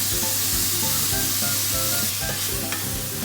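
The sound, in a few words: mushrooms frying in wild garlic butter in a pan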